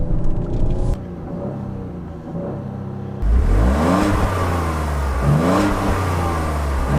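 A 2019 Ford Edge ST with a 2.7 liter engine revs up, its deep guttural rumble rising and falling in repeated climbs after a brief quieter idle, loud and close with no talking.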